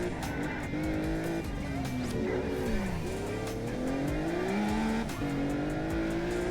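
A C-Class racing car engine in the video game Test Drive Unlimited revs up and down through gear shifts, with tires squealing as it corners, loud and close throughout.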